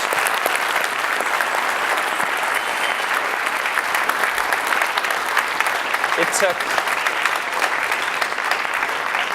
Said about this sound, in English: just a round of applause for this amazing panel